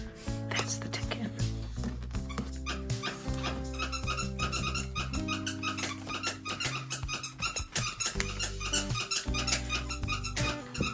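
Several energetic indoor dogs bark, yip and whimper after days of snowy weather, a busy, continuous mix of short cries and whines with people talking in the room.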